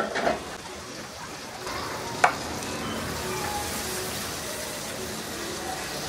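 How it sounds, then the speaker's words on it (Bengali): Tomato and nut paste frying in a pan for egg lababdar, a steady soft sizzle running throughout with stirring noises and one sharp clink near the middle. "এর মধ্যে আমি দিয়ে দিব এই যে টমেটো আর বাদাম ব্লেন্ড করে রাখলাম, ওইটা দিয়ে এর সাথে একটু ভুনে নিব"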